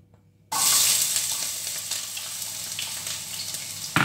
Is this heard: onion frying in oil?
yes